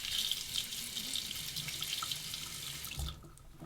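Tap water runs steadily into a sink to rinse soap and stubble off a 1959 Gillette Fatboy E4 safety razor, a close continuous splashing stream that cuts off near the end.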